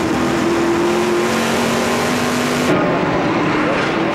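Stock race car engine from the number 22 Dodge at the 2010 Canadian Tire 100, a loud sustained roar with steady tonal drone, track noise thick around it and a subtle shift midway as the car moves on.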